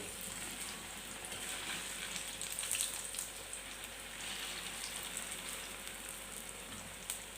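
Bread pakoras fry in hot oil, a faint, steady crackling sizzle with small pops scattered throughout, heard alone without voices.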